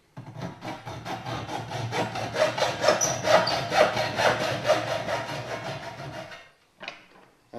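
A hand saw cuts steadily through a car body panel clamped in a vise, its rhythmic strokes loud and close for several seconds before stopping, followed by a brief scrape.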